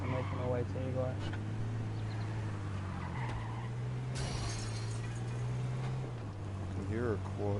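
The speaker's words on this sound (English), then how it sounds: "Can hear a quad." A quad bike engine in a PS4 video game drones with a steady low hum that shifts pitch a few times, with faint voices and game noise underneath.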